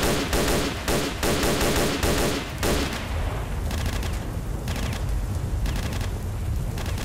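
Rapid gunfire from the video game S.T.A.L.K.E.R. Shadow of Chernobyl opens with a dense burst of shots, then gives way to scattered, rumbling reports and echoing booms, loud and alone with no talk.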